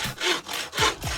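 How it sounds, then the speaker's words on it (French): A hand saw cutting through wood for small flags, heard as four rhythmic rasping strokes, close and fairly loud, each push and pull clearly separated with no talking. "on coupait en fait vers l'avant avec une scie, pas tant vers l'arrière"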